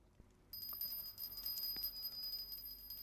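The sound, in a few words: hand bell rung during puja incense offering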